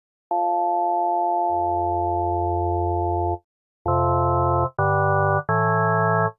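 A synthesized organ tone from the VirSyn Addictive Pro synthesizer on iPad holds a steady chord, then bass notes join, followed by three shorter, higher chords in quick succession.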